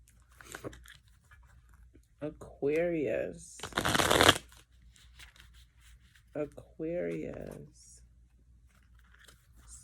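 Tarot cards are shuffled in quick riffling bursts between stretches of quiet talk, one louder shuffle in the middle standing out; close and crisp against a soft room background.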